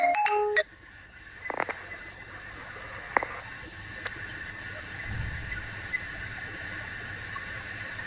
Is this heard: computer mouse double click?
no